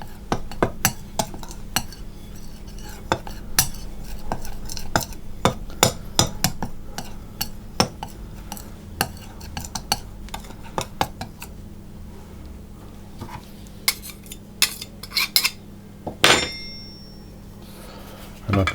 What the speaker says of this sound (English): the lemon zest and the sugar over that. I'm just going to stir that in.